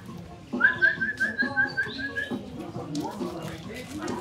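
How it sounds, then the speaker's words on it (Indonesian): A loud, sustained human whistle on a steady high pitch, held for about two seconds near the start, with people talking and background chatter running underneath and after it. "Siapa bisa bersiul keras?"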